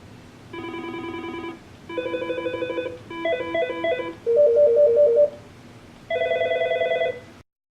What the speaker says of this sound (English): I'll use the up and down arrow keys to cycle through the different ringtones that are available.